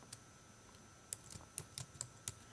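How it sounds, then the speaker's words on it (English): Keys tapping at a computer keyboard in an irregular run of about a dozen sharp, close clicks spread over a couple of seconds, with brief pauses between small bursts and no talking. "It's got a blinking cursor in it, and so now I can type in my text."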